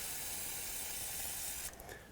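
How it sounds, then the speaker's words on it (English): A steady hiss of aerosol cleaner sprayed onto the threads of a front brake hose fitting on a 1997-2003 Ford F-150, close and continuous, then tapering off abruptly near the end. "I'm gonna spray it down to clean off the threads"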